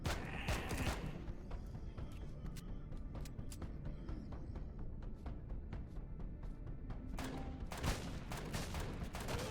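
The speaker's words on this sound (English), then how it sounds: "Someone's shooting." Gunfire in the space survival video game Empyrion crackles at a moderate distance, with irregular single shots and short bursts scattered across the clip and louder clusters near the start and end.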